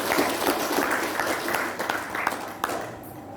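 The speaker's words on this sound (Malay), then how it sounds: "Tepuk tangan untuk mereka." Applause for thirteen certified community leaders at a village thanksgiving ceremony for a headman's appointment, a dense crowd clapping steadily for a few seconds with a murmur of voices beneath before it fades.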